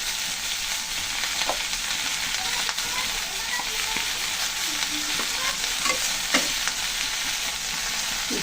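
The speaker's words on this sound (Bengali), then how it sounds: "বেশি জিরা বাটা বেশি দিয়ে আবার ভালো করে কষিয়ে নেবো মশলা দিয়ে।" Onion-garlic spice paste fries in a pan in a village kitchen, a constant close sizzle broken by repeated spoon scrapes and stirring clatter, with a faint voice briefly in the background.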